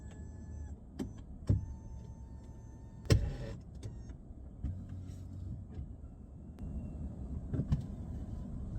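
The power seat motor whirs on a Mazda CX-60 as the car's automatic seat adjustment raises the driver, a low hum under the cabin hush with a few clicks and thumps.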